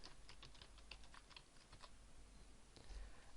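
Rapid keystrokes on a computer keyboard as a widget title is entered in WordPress, an uneven run of light clicks close by, with a brief pause and a final burst near the end; no one speaks.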